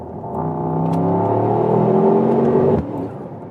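A Mercedes-AMG GT 63 engine revs hard and climbs in pitch for a couple of seconds, loud and close, then cuts off abruptly.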